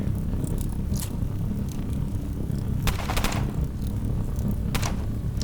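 Gunfire in the video game Underrail, a few sharp bursts of shots spaced apart over a steady low droning background, with no talking.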